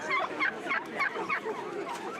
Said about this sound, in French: Et en attendant, la dinde glougloute.